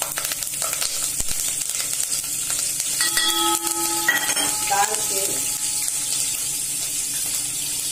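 Curry leaves and chillies crackle in hot oil for a Rasiya Dhokri tempering, a steady close sizzle with clinks of pan and utensil and a brief tonal squeak, voices faintly audible in the background.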